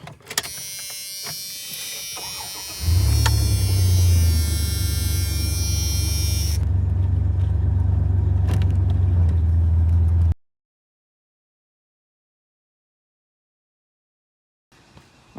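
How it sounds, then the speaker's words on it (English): A 1993 Dodge Dakota pickup with a V6 engine runs with a deep, steady low hum close by for several seconds, then cuts to silence. "This is a 1993 Dodge Dakota with the V6 in it."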